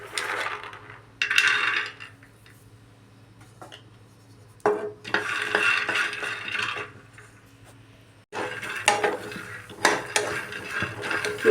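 Peanuts roast in a pan and are stirred in three separate bursts, their scraping, rattling clatter loud and close, with quieter gaps of low hum between them.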